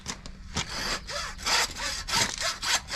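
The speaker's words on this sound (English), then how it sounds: "And sometimes I use this meat saw." A hand meat saw cuts through a deer carcass in steady, rasping back-and-forth strokes, close and loud, about five strokes in a rhythmic sequence.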